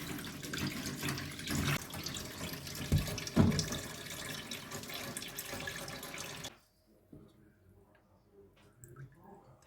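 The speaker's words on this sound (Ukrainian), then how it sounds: "набираю в раковину холодної води і буду ставити туди кастрюлю." Steady rush of cold tap water pouring into a sink for several seconds, fairly loud, then cutting off abruptly into near silence.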